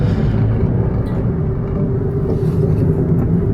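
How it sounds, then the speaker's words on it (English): A small Japanese kei car engine drones low and steady as it labors through sharp hairpin turns on a mountain road, a close continuous rumble with some wind buffeting. "Listen to this poor little engine."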